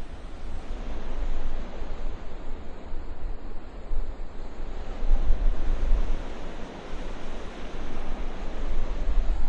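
Strong water current rushing through Mohonpur Rubber Dam, a loud continuous roar of surging water and breaking waves with some wind buffeting the microphone.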